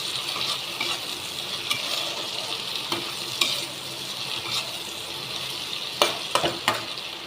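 Chopped tomatoes and onions sizzle steadily in a hot pan for a Bengali rohu fish dish, with a spoon scraping and stirring in occasional sharp knocks against the metal.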